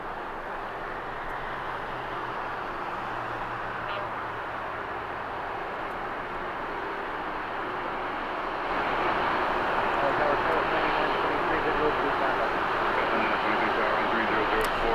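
A DHL cargo airplane operated by Polar roars at LAX in Los Angeles as a steady, broad engine rumble that swells louder partway through, with faint talk in the background.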